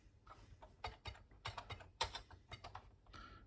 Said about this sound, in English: I'll just type it then.